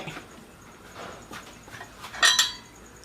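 A lid is set down on a cooking pot holding eggs for onsen eggs, giving a short, fairly close metallic clink and rattle near the end, after quiet room noise.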